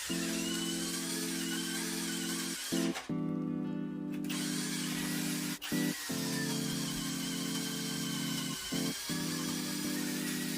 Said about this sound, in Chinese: 切换到慢档。 这个55牛米的电钻真的是太不够看了。